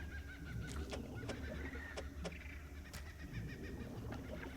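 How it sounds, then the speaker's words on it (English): Birds call in the fishing game Dredge, sharp honking, cackling cries repeating in irregular bursts over a low ambient hum, moderately close with no talking. "Oh no, the birds are laughing at me."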